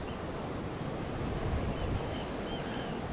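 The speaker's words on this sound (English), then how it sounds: "Oh, I can hear the roar from this overflow around here." Continuous broadband rushing of water pouring over the overflow at Lintrathen Reservoir, Scotland, a dense steady roar with wind buffeting the microphone, no voices.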